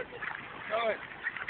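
A duck gives a short quack, maybe two, while being fed bread. The call is brief and fairly faint, set against low background murmur.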